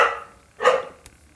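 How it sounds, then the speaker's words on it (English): A dog barks twice nearby, two short sharp barks about half a second apart, followed by a faint click in a quiet room. "This is my dog barking."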